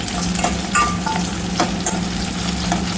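Garlic sizzling in hot oil while lemon rice is being made, a steady close crackle with a few stirring scrapes and brief clinks over about three seconds.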